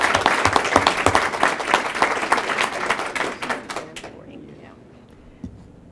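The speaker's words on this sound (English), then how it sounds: "Give them, once again, a round of applause." Audience applause for teachers at a school board of education meeting, dense clapping for about four seconds that then fades to quiet room tone with a soft thump near the end.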